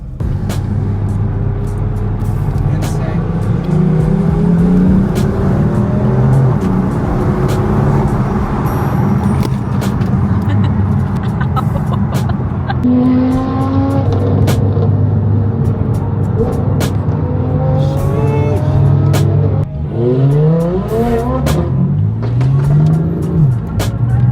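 Supercars including a Lamborghini Huracan, a Lamborghini Urus and Ferraris drive past on the road, a continuous loud rumble of engines with rising and falling revs and several passing sweeps throughout.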